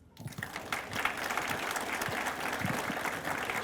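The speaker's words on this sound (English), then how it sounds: "Let's clap it up for our graduates." Audience applause for graduates at a 2024 graduation ceremony, steady crowd clapping that swells quickly after a brief quiet start and holds at an even level, with a few low voices or whoops mixed in.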